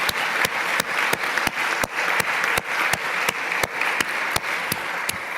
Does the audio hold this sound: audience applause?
yes